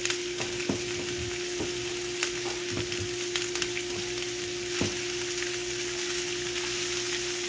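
Onions fry in a pan with a steady close sizzle, broken by the occasional soft scrape and knock of stirring, over a constant low hum, with no voices.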